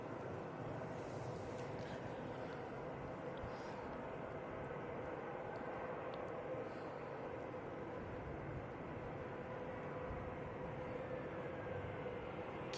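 An EasyJet airliner touches down at Manchester Airport, heard as a steady, fairly distant engine rumble and rush that holds evenly throughout, with no clear voices over it.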